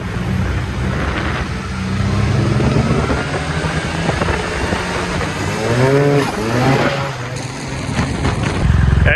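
Tuned Yamaha TMAX turbo scooter accelerating hard, a loud rising engine whine climbing through revs with wind and road roar, close and continuous.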